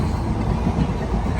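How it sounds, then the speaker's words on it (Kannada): Steady rumble of a train running along the tracks, a continuous low, dense roar with no clear breaks, fairly loud and close throughout. "ಟ್ರೈನ್ ಸೌಂಡಿಗೆ"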